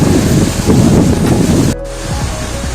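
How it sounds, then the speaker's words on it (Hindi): A waterfall with nearby caves gives off a loud, continuous roar of rushing water. Wind buffets the microphone, and the sound drops away briefly near the end. "नो डाउट बहुत सुंदर है ये वाटरफॉल।"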